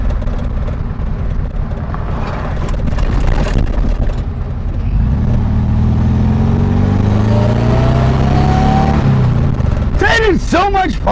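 Supercharged 1600cc VW Karmann Ghia accelerates on a test drive, its engine note climbing through the gears from inside the car, with a rising supercharger whine and the driver talking.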